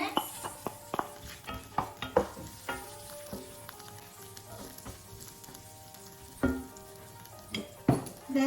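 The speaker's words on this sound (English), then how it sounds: "So now we'll put first the garlic or ahos in our language. Onion next." Garlic and onion are tossed into a pan for pancit with vegetables and stirred, giving a steady sizzle punctuated by sharp clanks and scrapes of a utensil against the pan, close and fairly loud.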